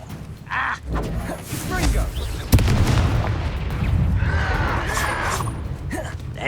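The Confringo fire spell bursting in Hogwarts Legacy, a sharp explosive crack followed by a rolling rumble amid other combat noise and voices.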